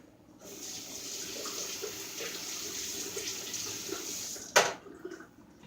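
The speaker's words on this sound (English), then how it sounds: "And then I wash my cans for recycle" A faucet runs steadily while cans are rinsed for recycling in a home kitchen, a smooth close hiss of water ending with a brief clunk and a splash.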